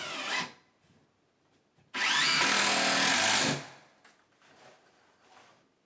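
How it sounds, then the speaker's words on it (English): A power drill drives screws into wood on new-home floor framing, one loud sustained whir of about a second and a half, close up, with softer handling knocks and scrapes before and after. "You want to add the screws every 8-inch centers, and you want to stagger them up and down."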